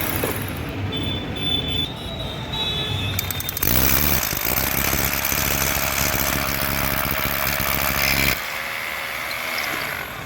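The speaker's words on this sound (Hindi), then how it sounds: "ये जो हैमर ड्रिल है इसी से ही लगेगा ये पूरा।" A hammer drill runs steadily and loud, close up, during ACP panel installation work. The motor changes pitch partway through, then holds a constant buzzing drone until it drops back near the end.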